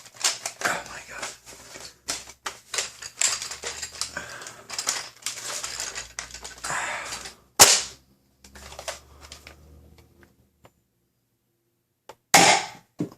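A Sentry X2 dart blaster fitted with an 18 kg spring upgrade fires in a string of sharp, loud pops and clacks, followed after a pause by a single hard snap; a voice exclaims between shots.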